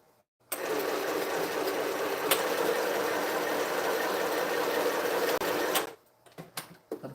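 A sewing machine stitches at a steady, fast whir for about five seconds and then stops. A few softer clicks and bumps follow as the work is adjusted. No one speaks.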